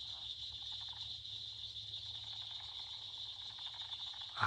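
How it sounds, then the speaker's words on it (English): Gopher frogs and leopard frogs call together in an outdoor chorus: a steady, shrill trilling drone that carries throughout, over a low, snoring hum, with a slightly louder burst at the very end. "there's also, waiting for it, gopher frogs calling, which is really cool"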